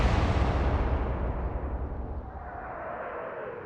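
Big explosion in the naval video game Atlantic Fleet, a loud broadband blast that rumbles and slowly decays over several seconds, heard alone.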